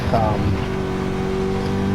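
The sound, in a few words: 2017 Nissan GT-R driving on track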